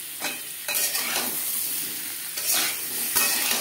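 Boiled potatoes fry in hot oil with turmeric and salt, a steady close sizzle broken by bursts of stirring and scraping in the pan, with no voices.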